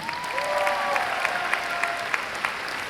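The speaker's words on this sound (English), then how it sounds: "Clap it up for Brendan anyway." An audience at a graduation commencement claps steadily, scattered sharp claps over a warm crowd roar, with a faint tonal sound sliding underneath.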